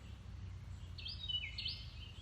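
Small birds chirping at a window box on a shed, a brief faint run of high tweets against a low background rumble, no talk.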